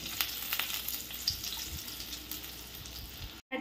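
Red chilli powder, coriander powder and kasuri methi being mixed into a potato filling for bread pakoda, giving a steady close sizzle with soft scraping stirs and a brief dropout near the end, no voices.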